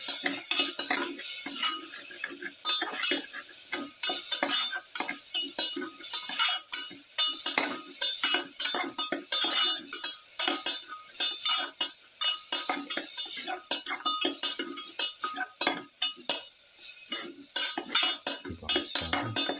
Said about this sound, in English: Keep on stirring.